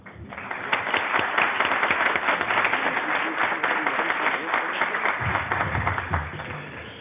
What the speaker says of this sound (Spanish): y les pido un aplauso para él.